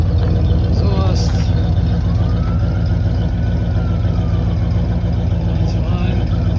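A 1968 Chevrolet Chevelle convertible with a 350 V8 idles at the exhaust, giving a low, even, close-up rumble, while someone talks over it.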